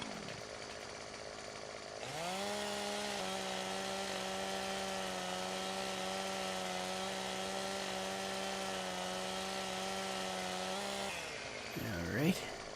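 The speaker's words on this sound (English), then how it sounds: "I forgot you can't run with a chainsaw" In Farming Simulator 17, a chainsaw revs up and holds a steady, loud droning buzz for about nine seconds while felling trees, then winds down with a falling whine.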